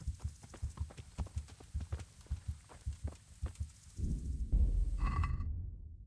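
Steady rhythmic horse hoofbeats in the video game Kingdom Come: Deliverance, clopping along at a walking pace, then a louder rumbling shuffle and a brief tonal chime near the end.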